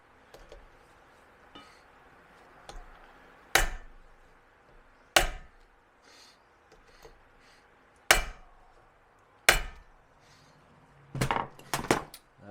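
A hammer strikes a manual impact driver to loosen screws while rebuilding Unimog portal axles, giving several sharp metallic smacks spaced a second or two apart, close and loud, with a quick double blow near the end.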